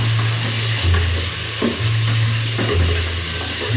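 Onions sizzling as they fry in a pan, a loud continuous crackle with stirring scrapes and a low humming tone underneath, no talking.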